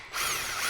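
Power drill whirring as it drives a screw into a drywall patch, a brief loud close whine that starts abruptly and holds steady.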